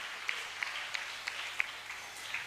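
A church congregation at a national convention in Togo claps for Jesus, a faint, steady patter of applause with a few sharper hand claps, distant and low in level.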